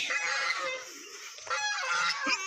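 Several birds honk and squawk loudly nearby, goose-like calls overlapping in noisy bursts with a brief lull midway.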